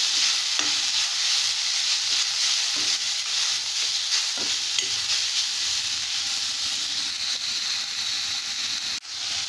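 Tomatoes sauté in a pan for puffed rice upma. A steady, fairly loud hiss and sizzle carries on throughout, with a few soft scrapes of stirring and a sharp clack near the end.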